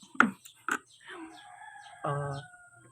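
A rooster crows in a drawn-out, wavering call, preceded by a few short clucks, fairly close with no speech.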